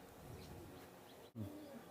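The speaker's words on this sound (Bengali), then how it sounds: "এক জোড়া নিউ অ্যাডাল কবুতর আছে" A pair of young adult teddy pigeons, Oman and KTM breed, give faint low coos and a brief rising call against a dull background hum.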